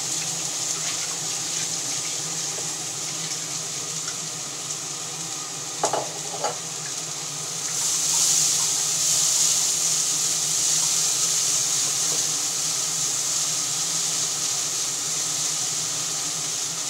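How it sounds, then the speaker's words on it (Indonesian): Bean sprouts stir-fried in a home kitchen pan, giving a steady broad sizzle throughout with a few brief scraping stirs near the middle and the frying swelling louder in the second half, with no talk. "Ini ibu tumis sayur togenya ya"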